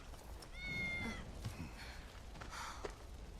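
A cat in Final Fantasy VII meows over game background ambience, a couple of drawn-out mewing calls at moderate volume.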